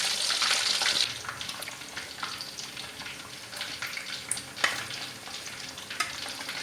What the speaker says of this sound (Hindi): तो आप देख सकते हैं कि हमारा चरगा माशाल्लाह से फ्राई हो रहा है।